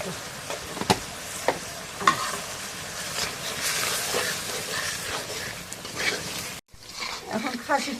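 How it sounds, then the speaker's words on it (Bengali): Goat fat fries in a pot while it is stirred, a steady sizzle broken by scraping and knocks from the spoon, with a brief pause near the end before the stirring resumes. "খাসির তেলটা একটু কষানি করে দিই"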